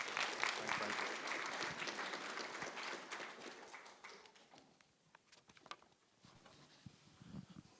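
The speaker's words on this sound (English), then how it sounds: "Round of applause for Vivian, please." Audience applause for a speaker at a social workers' association event on care and loved ones, loud and dense at first, then thinning into scattered claps, with voices murmuring underneath.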